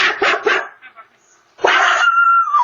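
A loose pitbull-type dog barks and yips close by outside a delivery van. Several sharp barks come first, then a pause, then a louder burst ending in a drawn-out whine.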